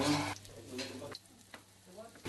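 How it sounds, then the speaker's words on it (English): Chicken frying in a pan for a chicken hot pot, a constant crackling hiss with occasional stirring scrapes, fairly quiet. "They're frying the chicken off."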